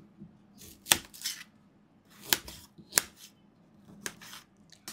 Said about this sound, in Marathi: आता आपल्याला कांदा बारीक चिरून घ्यायचा आहे।